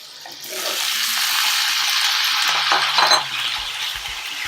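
Cauliflower florets tip into a hot pan for a potato-cauliflower curry with green chillies, bringing a steady close sizzle with wet hissing and a few scraping stirs toward the end.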